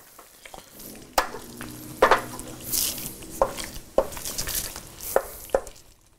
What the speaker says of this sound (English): I'll give it an occasional stir.